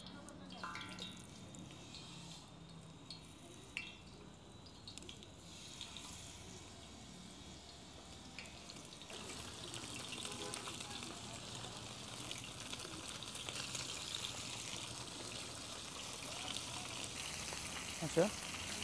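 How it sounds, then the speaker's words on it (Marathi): Mandeli fish dropped into hot oil for crisp frying, a low steady sizzle that swells noticeably louder midway and holds as a close, continuous hiss, with faint voices at times. "आपण आता याच्यामध्ये मांदेली फ्राय करून घेऊ।"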